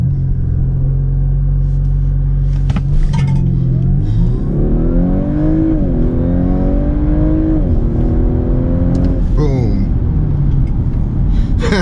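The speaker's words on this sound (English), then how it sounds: "All right, launch control 0 to 60." 2019 Audi A5 Sportback doing a launch-control 0 to 60 run in sport and dynamic mode: engine held at idle, then loud rising revs climbing through several quick upshifts, heard from inside the cabin.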